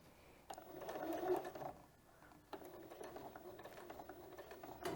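A home sewing machine stitches a homemade fabric face mask, running in two quiet bursts of rapid mechanical whirring with a short pause between, close by and faint.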